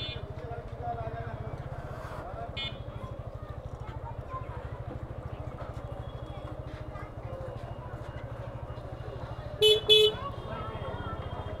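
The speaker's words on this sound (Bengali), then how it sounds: "এই মোড়টা সবসময় এরকম জ্যামজট থাকেই" A congested road junction crowded with auto-rickshaws and rickshaws, heard from a motorbike: a steady low engine rumble under scattered distant horn toots, with one loud, close double honk near the end.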